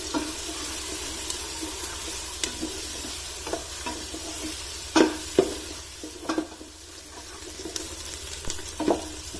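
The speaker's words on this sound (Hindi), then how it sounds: "प्याज, लहसुन, अदरक और हरी मिर्च को मैंने इसमें 2 मिनट तक फ्राई होने दिया घी में।" Onion, garlic, ginger and green chili fry in ghee for a mutton mandi, a steady close sizzle with scattered sharp clicks of stirring and a few louder scrapes toward the end, no voices.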